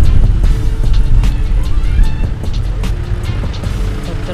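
Road traffic on the way to Tagaytay in the Philippines: a steady, close rumble of car engines and tyres on the road, heard from inside or beside a vehicle, with no clear voices.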